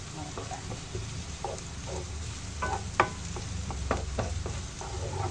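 Garlic frying in a pan for chicken pastel, a close sizzle under repeated scraping and clinking stirs, with a low voice murmuring in the background.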